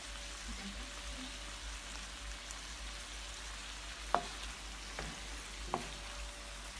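Jamaican ackee and saltfish with black pepper cooking in a pan over a low flame: a soft, steady frying hiss runs throughout, with a few faint clicks of a utensil against the pan.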